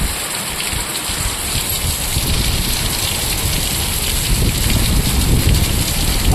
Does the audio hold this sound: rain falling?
yes